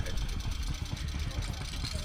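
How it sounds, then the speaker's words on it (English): A Scammell lorry with a Gardner 180 diesel engine idles at a steam rally in Parham Park, Sussex, a steady low rhythmic chug close by with outdoor background noise. "Here we see a Scamel with a Gardner 180 diesel engine"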